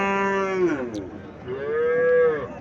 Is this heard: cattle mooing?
yes